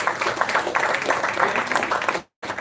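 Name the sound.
audience applause for conference organizers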